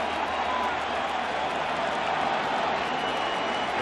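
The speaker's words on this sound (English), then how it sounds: "And this crowd is having fun here in the second." Baseball stadium crowd at Game 6 of the 2014 World Series, Giants versus Royals, a steady broad roar of cheering and chatter that stays constant throughout, with no distinct claps or peaks.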